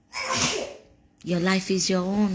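A single loud, breathy sneeze up close, followed immediately by someone speaking clearly.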